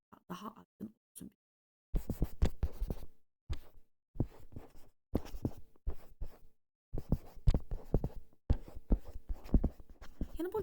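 A pen writes on paper during a biology exam exercise, giving close scratchy strokes in irregular bursts separated by short silences.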